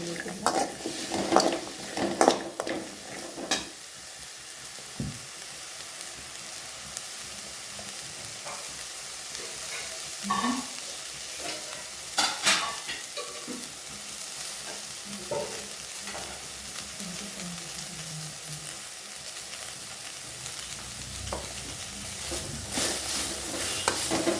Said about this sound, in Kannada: ಈಗ ಕೊಬ್ಬರಿ ಮತ್ತು ಈರುಳ್ಳಿನ ಹುರ್ಕೊತಾ ಇದ್ದೀನಿ